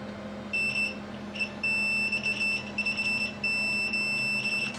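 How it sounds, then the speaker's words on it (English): A multimeter's continuity tester beeps on the pins of an Atomic Purple Game Boy Color. Several clear, steady electronic tones start and stop in separate bursts over quiet background hiss. "let's see if we get continuity through these pins"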